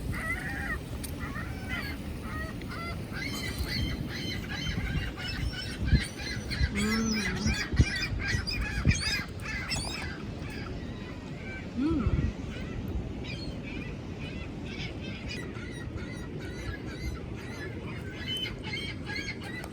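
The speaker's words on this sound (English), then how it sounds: "Loud birds." Loud geese honking outdoors in a steady, overlapping chorus, with scattered near calls standing out against the flock, and a few voices talking faintly underneath.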